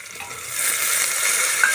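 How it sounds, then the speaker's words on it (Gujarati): Eggplant dropped into a pan of onions and potatoes frying in oil, giving a steady close hiss and sizzle that swells after the first moment and holds with light stirring. "ત્યાર પછી રીંગણા નાખી દઈશું."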